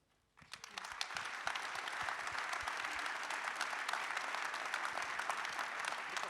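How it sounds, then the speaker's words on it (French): Applause from an audience bursts in after a brief quiet and quickly builds into sustained, dense clapping that carries on evenly to the end. "c'est pour vous ces applaudissements"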